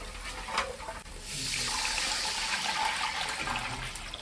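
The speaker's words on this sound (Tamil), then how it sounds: "இந்த புளி தண்ணி ஊற்றிக்கலாம்" Tamarind water pours steadily into a pan, a continuous rushing splash that swells after a brief start and keeps flowing.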